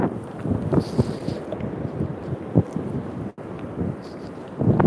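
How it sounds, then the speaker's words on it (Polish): Wind buffets the microphone at Ainsdale Beach, a steady roaring rush with gusty swells and a brief dropout before it surges again. "Bo po prostu wiatr."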